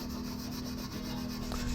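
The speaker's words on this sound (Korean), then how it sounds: "와이어 브러쉬 같은 걸 갖고 와서 열심히 문대 주었습니다." Rough, rhythmic scraping of a stiff wire brush against a front brake disc from a 2009 Porsche 911 (997) continues steadily, with a low hum underneath.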